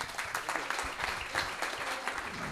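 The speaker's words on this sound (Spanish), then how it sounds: "Un aplauso, por favor" An audience at a bookshop book presentation applauds in a dense, continuous patter of clapping that holds steady for a couple of seconds.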